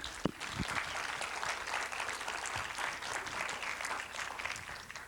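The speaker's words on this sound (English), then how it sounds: "A round of applause for her" Seminar audience members applaud together, a fairly faint but continuous patter of many hands clapping with a couple of sharp knocks near the start.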